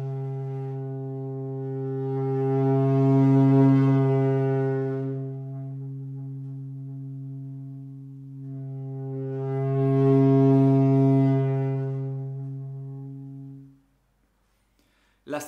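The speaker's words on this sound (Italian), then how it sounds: "aumentare il volume del tuo effetto tromba e diminuirlo proprio quasi fino a farlo scomparire." A low, buzzy horn-like trumpet toot on a didgeridoo with strong harmonics swells up and fades away twice, then cuts off.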